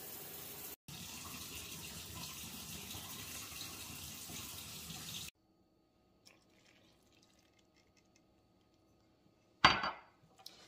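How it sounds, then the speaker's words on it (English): Hot tap water, a cup and a half, runs in a steady rush for several seconds while making fry bread dough, then stops; faint clinks follow and a short loud splash near the end. "now we're going to go in with a cup and a half of hot tap water"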